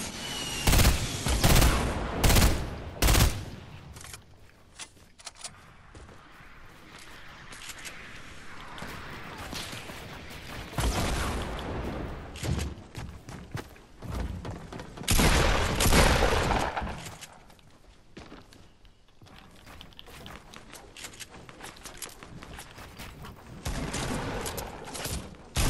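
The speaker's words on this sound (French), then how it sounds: "ça nous shoot de plein de balles" Bursts of automatic and single-shot gunfire in a Fortnite duo match, loud and close, arriving in dense volleys with brief lulls between them and a few faint voices underneath.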